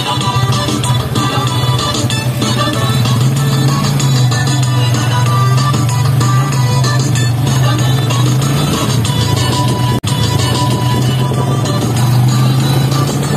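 A truck rolls along a road in Lanao del Sur, a loud, steady engine drone with a continuous low rumble and broadband road noise held throughout, with one brief dropout near the end.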